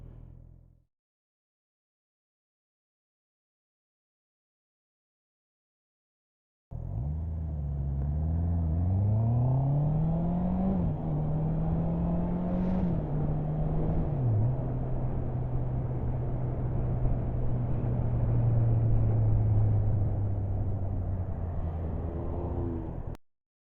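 Motorcycle engine running up through gear changes with the throttle opened, a steady close drone that rises and dips in pitch, following a few seconds of silence.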